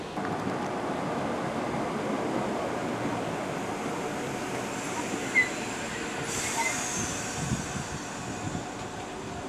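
Train arriving at a station on the Snow Hill Lines toward Dorridge, a steady broad rumble with wind noise and a faint brake squeal as it draws in.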